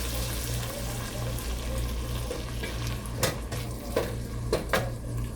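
Kitchen sounds with a low sizzle as a little water hits a hot, lightly oiled frying pan while cooking tilapia, followed by a few sharp clinks of cookware.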